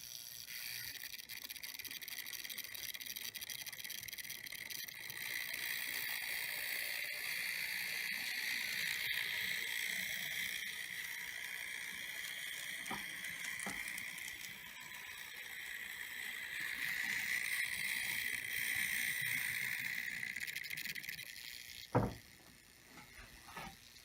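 A small N scale model locomotive, once broken and now repaired, runs steadily along its track with a continuous high whirring motor hum and faint clicking rail rattle, close and alone, ending in a sharp knock.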